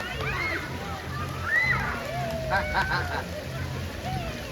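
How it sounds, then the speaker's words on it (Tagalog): Ducks quack and honk several times over sloshing water at Astoria Puerto Princesa, Palawan, with voices chattering in the background. "Pato!"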